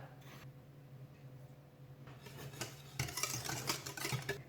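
A spoon stirring custard in a pot, faint at first, then louder scraping and clinking of metal against the pan over the last couple of seconds.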